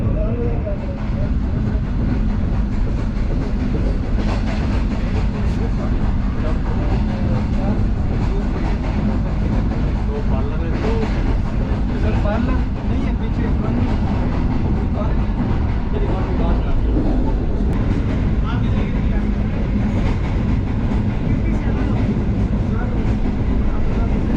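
Loud, continuous rumble of a Green Line Express passenger train leaving Lahore Cantt in Pakistan, riding in a parlour car, with rhythmic clattering of wheels on track, while someone talks over the noise.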